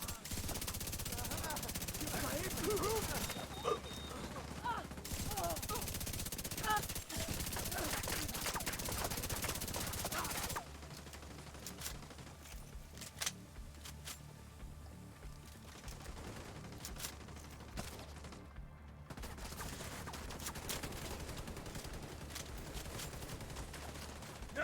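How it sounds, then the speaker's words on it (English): Gunfire in The Division 2 shooter game: dense, continuous automatic fire and shots fill the first ten seconds, then thinner, scattered bursts continue over game background noise. "Stop them shooting!"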